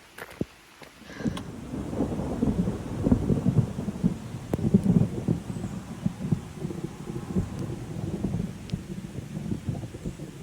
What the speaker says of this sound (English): It's raining and the sun is out.